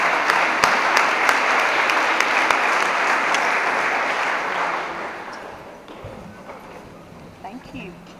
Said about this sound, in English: Let's give these freshmen a round of applause.